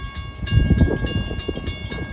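A locomotive's K5LA horn holds a steady, loud chord while a passing train rumbles and clatters close by on the Montauk Branch.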